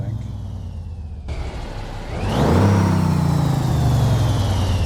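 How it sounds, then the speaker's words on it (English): A modded truck engine in American Truck Simulator, idling low before revving up to a louder sustained roar with a rising turbo whine on top, close and continuous. "There's some turbo whine in it."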